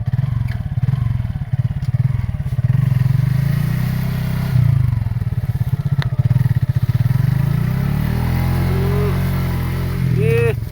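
A motorcycle engine is kicked into life and runs close by, a steady low throb broken by brief dips and surges as it idles and revs, with voices talking nearby.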